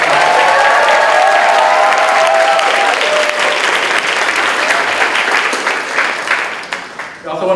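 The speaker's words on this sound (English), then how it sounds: "a big round of applause for all the BTS members" Loud, sustained audience applause fills a fashion show venue with dense, continuous clapping and some crowd noise, tapering slightly near the end.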